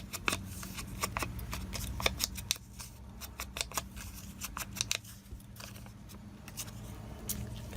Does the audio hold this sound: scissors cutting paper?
yes